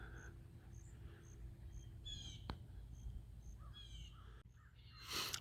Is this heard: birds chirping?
yes